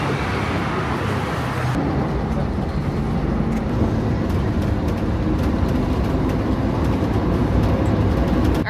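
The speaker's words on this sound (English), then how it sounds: "That was the bumpiest train ride ever." A Mexico City metro train rumbles loudly on a bumpy ride, with constant broadband roar, rattling and clanks throughout.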